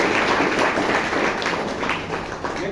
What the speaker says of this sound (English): So loud applause again for